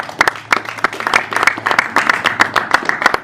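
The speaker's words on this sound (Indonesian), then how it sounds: "kita kasih tepuk tangan yang paling meriah" Steady applause from a crowd, dense overlapping claps filling the space, fairly loud and continuous with no talking.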